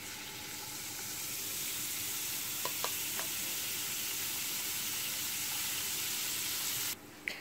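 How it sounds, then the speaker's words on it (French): Coarsely chopped onion sizzles steadily in margarine or butter over medium heat, a broad continuous frying hiss with a few faint clinks partway through and a brief drop near the end. "Je vais ajouter l'oignon que j'ai grossièrement haché."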